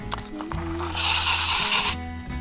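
A close, raspy clicking whir of a fishing reel cranked for about a second while crappie fishing from a boat, with some handling noise around it.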